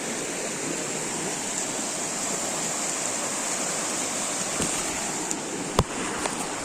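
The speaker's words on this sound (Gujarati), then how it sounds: "આ 7 મહાદેવની પાછળની નદી છે જોવો." A river rushes behind the Sat Mahadev temple in the Gir forest, a steady, full roar of flowing water close by, with a couple of brief knocks near the end.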